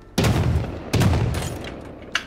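Two loud gunshots ring out in Rust about a second apart, each a sharp crack with a booming tail, followed by a fainter distant pop.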